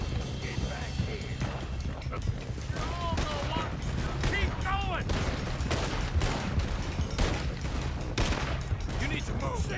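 A Red Dead Redemption 2 shootout crackles with repeated rapid gunshots in irregular bursts, loud and sustained over hoofbeats and bursts of shouting voices.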